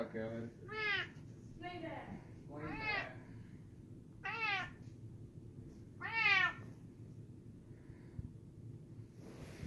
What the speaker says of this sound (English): I think he likes it, Aunt Catherine. These holes go all the way through, so the cat just falls right through it